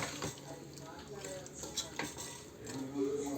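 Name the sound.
stirring veg biryani mixture in a pot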